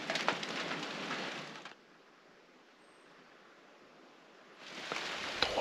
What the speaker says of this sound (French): Toujours sous la pluie.